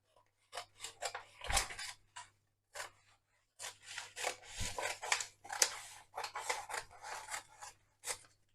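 Scissors snip through a paper template in quick rasping strokes, close and fairly quiet, in short bursts separated by brief pauses during assembly of an automatic trash bin.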